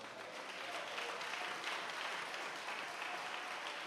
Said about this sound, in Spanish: ¿Cuánto pueden darle un fuerte aplauso al Señor?